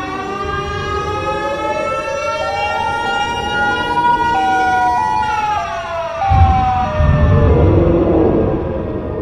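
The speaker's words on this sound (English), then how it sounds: "It's a siren head." A wailing, rising-and-falling electronic siren wail of the Siren Head monster from a video game, loud and continuous with stepped pitch glides and a deeper rumble entering near the end, no voices.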